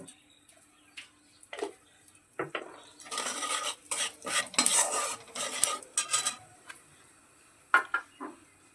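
A spoon stirs spices and sesame seeds in a pan while making semolina nuggets, giving dry scraping and clinking in clustered bursts with quieter pauses between.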